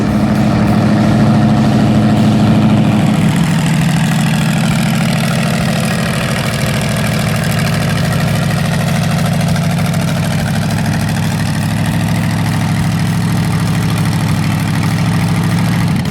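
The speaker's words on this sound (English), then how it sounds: "I'm driving a 1941 Chrysler Windsor Coupe that we just did a little work on" A 1941 Chrysler Windsor Coupe engine idles steadily, a loud, continuous low rumble that holds even throughout, with a slight shift in tone early on and no talking.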